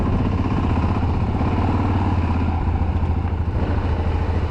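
Motorcycle riding downhill on a mountain road in Georgia, a close, loud, continuous engine drone with a pulsing rumble and rattle, no talking.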